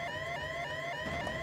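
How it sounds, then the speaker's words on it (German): Incoming missile warning alarm in the video game Boiling Point: a steady electronic beeping siren tone with rapid pulsing, faint and continuous over low background rumble. "das, was du hörst, ist der drohende Einschlag einer Rakete"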